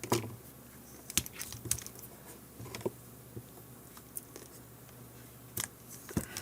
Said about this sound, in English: So watch as I remove the top.